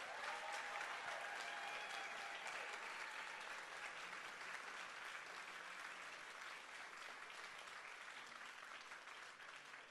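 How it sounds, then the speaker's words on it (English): Steady, dense audience applause at a political summit rally fills the whole stretch, loud and sustained with no pauses and little voice on top. "I want you to give a round of applause for the over 250 organizations that have endorsed this People's Summit."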